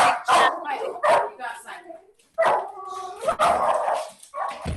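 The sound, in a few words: dog barking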